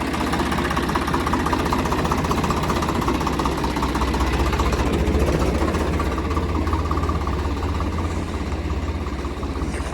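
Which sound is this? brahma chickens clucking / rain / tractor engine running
tractor engine running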